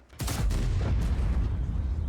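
A single heavy cannon blast from an Object 268 version 4 tank destroyer in World of Tanks booms out, followed by a sustained low rumble that fades slowly.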